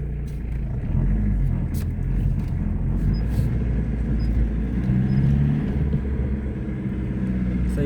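A Broadway car rumbles along a country lane in a low, steady engine drone that swells slightly now and then, with a few faint high chirps over it.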